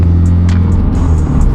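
A Subaru BRZ's exhaust, just repaired after a leak and running without its loud axle-back, gives a steady, deep, close-up drone. The sound holds even for the whole short stretch.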